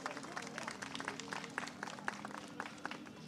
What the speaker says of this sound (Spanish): les brindamos a ellos que están conectados con nosotros un fuerte aplauso, por favor, de parte de todos los presentes